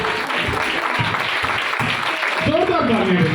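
Church congregation clapping loudly and energetically in praise of the Holy Spirit, dense applause from a crowd with a voice speaking over it near the end.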